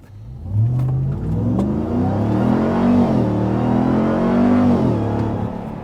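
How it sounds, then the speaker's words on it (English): A 2025 RAM RHO pickup truck engine revs hard and close at full throttle, its pitch climbing and shifting through gears in a loud, sustained roar. "You don't even have to floor it to hear how good this truck sounds."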